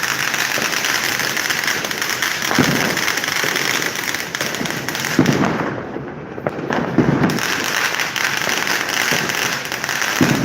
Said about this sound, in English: they have fireworks like this.